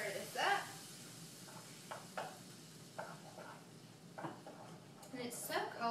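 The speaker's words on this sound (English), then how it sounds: "Stir this up." Chopped tomatoes, beans and vegetables get stirred in a pan with soft scraping and light sizzling. The sounds are fairly faint and come in short bursts.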